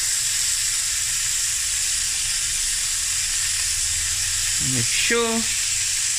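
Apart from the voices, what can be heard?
boerewors sausage frying in a pan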